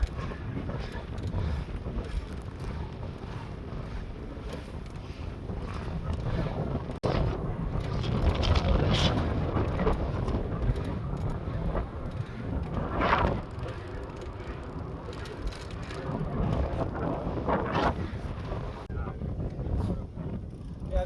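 Strong wind buffets the microphone during a stand-up bike ride past a man-made lake in the Netherlands, a continuous rough roar with gusty surges that swell and fade, while a rider speaks occasionally.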